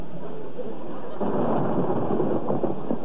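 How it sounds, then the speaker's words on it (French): A deep, rolling rumble of thunder swells up and lingers, with a steady hiss of rain underneath. "pour moi, ça, c'est le tonnerre, Léo."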